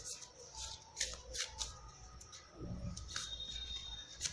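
Tarot cards shuffled close up during a Taurus energy reading, a run of quick papery riffles and soft flicks with brief pauses, fairly faint and alone.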